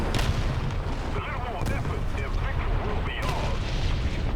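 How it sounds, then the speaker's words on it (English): War Thunder artillery barrage rumbles on without a break, a dense wash of heavy booms and crackling impacts that layers into a steady, loud roar from start to finish. "And also this is artillery barrage right here that's going on."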